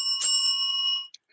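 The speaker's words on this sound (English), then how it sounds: "The bell rang." A school bell gives one bright metallic ring that sustains for about a second and then cuts off, heard alone with a faint tail after it.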